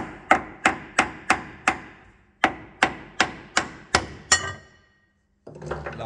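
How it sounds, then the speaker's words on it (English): Light hammer taps on a military vehicle steering part, two bursts of about five evenly spaced metallic strikes each, close and ringing briefly, followed by a short pause and faint handling noise. "little gentle tap"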